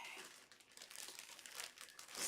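A sheet of paper crinkles and rustles as it is handled, with short soft crumpling bursts close by and no talk.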